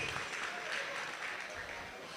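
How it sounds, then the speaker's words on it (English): Audience applause for a raffle winner at a special day event: steady, fairly quiet clapping that fills the whole short stretch at an even level, with a few voices murmuring faintly underneath. "A round of applause for her."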